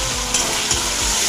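Fried potatoes drop into sizzling masala with Kashmiri chili powder for Kashmiri aloo dum, giving a brief burst of loud oily frying with a couple of stirring scrapes.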